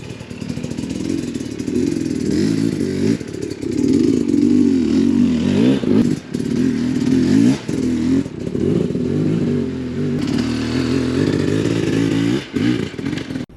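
A 2021 Sherco 300 SE Factory dirt bike is ridden on a sunny day, its two-stroke engine buzzing and revving continuously with rising and falling pitch as the rider works the throttle, loud and close throughout.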